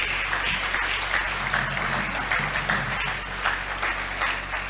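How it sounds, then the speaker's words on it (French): A church seminar congregation bursts into sustained applause for the Lord, a dense, even wash of many hands clapping that holds loud from start to finish with no talking. "Est-ce qu'on peut acclamer le Seigneur?"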